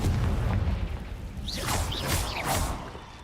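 A Confringo blasting spell from Hogwarts Legacy bursts in a series of booming, whooshing blasts over a low rumble, with several swishing magical streaks across three seconds.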